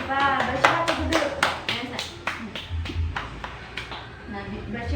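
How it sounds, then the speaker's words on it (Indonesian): A class of students claps for a classmate in a school lesson, a dozen or so distinct, fairly regular hand claps at moderate level over about five seconds, with some voices underneath. "tepuk tangan buat Mbak Siva"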